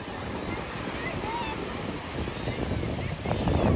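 Sea waves wash in at Diu with a steady rushing hiss and wind buffeting the microphone, the surge growing louder toward the end.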